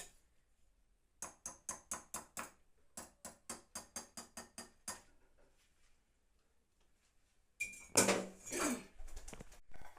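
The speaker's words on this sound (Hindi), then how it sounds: "उससे भी दही जो है वो अच्छे से बीट हो जाता है।" Yogurt (dahi) being whisked in a bowl, heard as two bursts of rapid, evenly spaced clinking strokes separated by a short pause, followed by louder, scraping clatter near the end.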